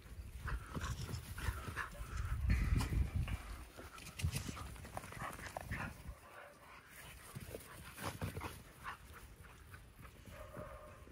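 Dogs playing in an exercise yard, with steady heavy panting, scuffling paws and occasional whimpers, close and continuous with no talk.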